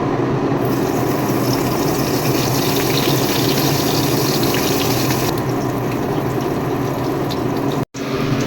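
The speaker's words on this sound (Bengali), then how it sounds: "তেলটা গরম হয়ে গেছে চিনিটা জ্বালিয়ে নেবো বেগুনটা আমি দিয়ে দিলাম" Eggplant dropped into hot oil with sugar in a home kitchen, a loud continuous close frying hiss that holds steady, with a brief cutout near the end.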